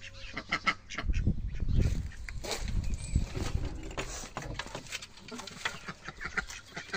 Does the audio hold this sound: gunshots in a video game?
no